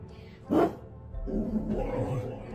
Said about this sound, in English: The dog begins to bark aggressively and growl at the empty space above